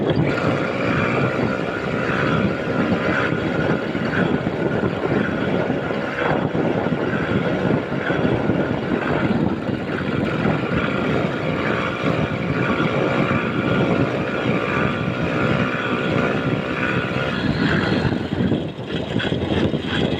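A small two-stroke motorised bicycle engine drones steadily and loudly throughout, a constant buzzing hum with no pauses or talking.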